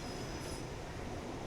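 ScotRail Class 380/0 Desiro electric train running on the Cathcart Circle Line in a train simulator game, a steady rolling rumble with a thin high wheel squeal near the start.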